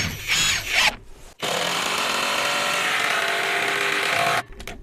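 An 18-volt GTM drill driver drives a 6x100 screw into wood with a loud, steady whirring grind lasting about three seconds. Brief rubbing and handling noises come just before it, and a short handling sound follows.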